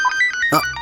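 A melodic electronic phone ringtone plays nearby, short tuned notes in a quick sequence with a brief voice overlapping.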